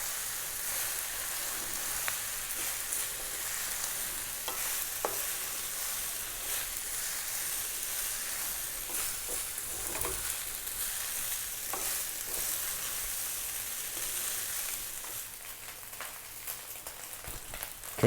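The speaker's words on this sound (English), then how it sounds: "Can you hear that rice frying?" Pork fried rice frying in a pan on high heat, a steady close sizzle with occasional crackles and stirring scrapes running unbroken and fairly quiet throughout.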